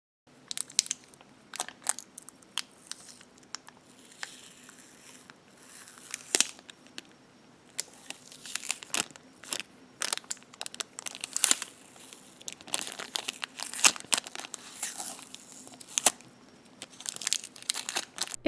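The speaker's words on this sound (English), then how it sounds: "Shine your light and now remove the tape." Tape is peeled off a miniature polymer clay lake craft in a series of close, crisp crinkling and tearing snaps, irregular and dry, with no talking.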